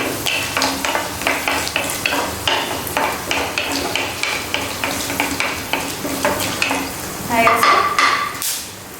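Greens with panch phoron frying in a pan, stirred with a utensil in steady rhythmic scrapes and clinks over a bright sizzle, close up.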